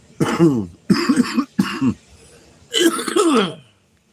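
Four bursts of harsh, wet coughing close by, spaced unevenly with brief pauses between them.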